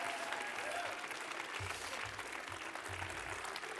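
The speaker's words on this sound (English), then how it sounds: "Another round of applause, please, for the Jazz Art Dance Theatre Company." A theatre awards ceremony audience applauds a jazz dance theatre company, with sustained, even clapping from a large crowd that fills the hall from start to finish.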